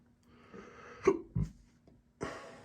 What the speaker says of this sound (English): Nice burp for you there.